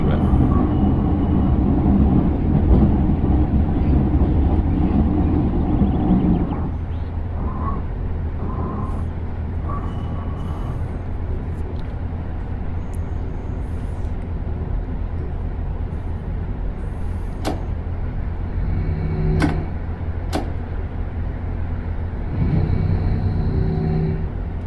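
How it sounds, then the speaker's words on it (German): A train in Train Simulator Classic, on the Hamburg route, rolls steadily over switches: a continuous low rumble with a few sharp wheel clacks near the end, while someone talks over it. "Oh, schön, die weichen Sounds, ehrlich."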